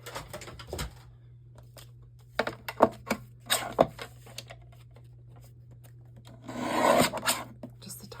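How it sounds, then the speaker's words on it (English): Small edge being trimmed off die-cut cardstock, giving scattered short scraping and rasping strokes, then a denser rub near the end, close and fairly quiet over a low steady hum. "I think I'm gonna have to trim that little edge off on there too."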